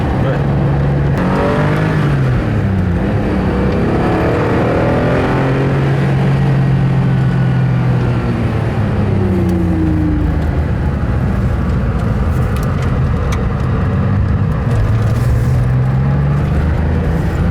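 Porsche 911 on a drive, its flat-six engine revving and pulling through the gears with rising and falling pitch, loud and close from inside the car, with voices talking over it.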